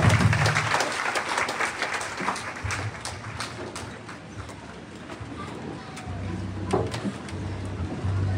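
A church congregation applauds and cheers in praise, a rolling crowd of clapping that swells at the start and again near the end, with voices mixed in.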